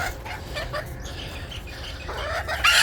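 Feral chickens clucking and squawking during a feeding frenzy outdoors, a busy overlapping flock of bright clucks and chirps at moderate distance, with no speech.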